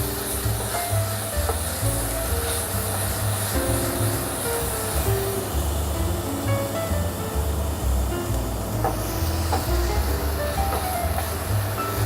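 Onions and garlic sizzle steadily in a hot pan, a continuous, even hiss with a low, rumbling undertone and no break throughout.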